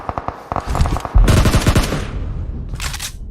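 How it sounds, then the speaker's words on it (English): Rapid bursts of automatic gunfire from the video game BGMI during an esports tournament final, loud, close, repeated shots running together into a dense volley, then a brief whoosh. "Zaib is also shooting shots over here."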